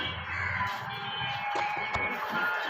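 Crows caw repeatedly near leftover fish and paratha scraps put out for birds, the calls overlapping over a steady background hum.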